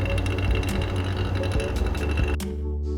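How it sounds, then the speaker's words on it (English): A freeze dryer runs with a loud, steady mechanical hum and whir that holds constant, then partly drops away near the end. "since the freeze dryer will be working for a while"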